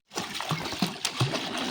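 Water splashing at a campsite swimming spot, with several soft splashes and dribbles over roughly two seconds, fairly close and moderately loud, with no one speaking.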